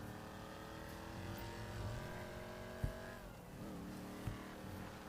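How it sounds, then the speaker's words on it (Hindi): A muscle car engine in GTA V Online drones steadily with a rich layered tone, its pitch sliding down midway and then settling, with a couple of brief knocks, heard at a moderate distance without talk. "गाड़ी भी बड़ी मस्त सी लग रही है, आवाज़ देखो क्या मस्त सी लग रही है गाड़ी।"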